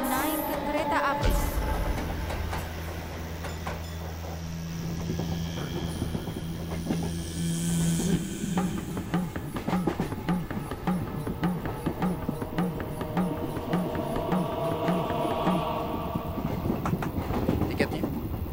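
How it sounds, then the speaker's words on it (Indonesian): A train waits at a station shortly before departure, its engine giving a steady low hum with hiss and rhythmic mechanical pulsing, while a voice talks over it. "Kereta sebentar lagi akan diberangkatkan."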